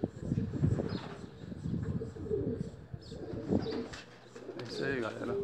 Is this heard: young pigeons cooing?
yes